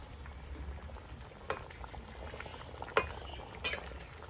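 Curry broth bubbling at a steady low simmer in a pot, a soft continuous boil with a few sharper pops and clinks standing out, heard close and fairly quiet with no voices.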